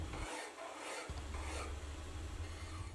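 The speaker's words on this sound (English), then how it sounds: "I'm just trying to clean it up a little bit with a file." A metal hand file rasps back and forth over a machined steel drawbar part for a mill, making close, continuous scraping strokes with a brief pause early on and no talking.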